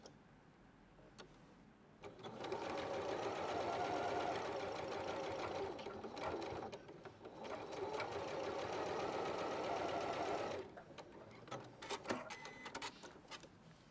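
A sewing machine stitches a quarter inch seam on quilting fabric, its steady rapid mechanical whirr running in two long bursts with a short pause between, followed by quieter clicks and handling.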